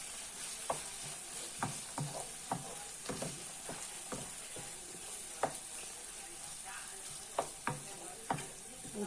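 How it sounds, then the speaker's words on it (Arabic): Onion and hot pepper frying in a pan, with garlic already added, give a steady hot sizzle broken by repeated scraping stirs and clinks of a utensil at close range, with no talking. "نتقلى شويه مع البصل والفلفل الحار"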